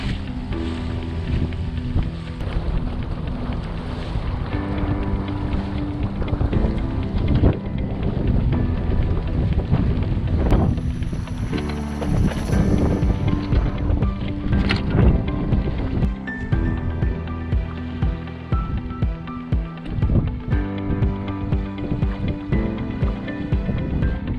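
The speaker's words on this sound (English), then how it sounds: "The brisk northerly winds show up right as forecasted." Brisk northerly wind blowing over a sailboat at anchor near a shallow island shore, a steady loud broadband roar with gusts and rumbling buffets throughout, no talking.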